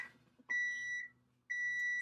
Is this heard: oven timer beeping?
yes